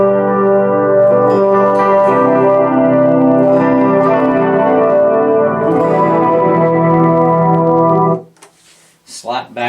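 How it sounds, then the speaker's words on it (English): An electric guitar played through a Boss GT-100 effects processor on its slow gear setting, with sustained chords swelling in without a plucked attack and ringing with echo, then cutting off near the end to a few faint noises. "Super slow gear."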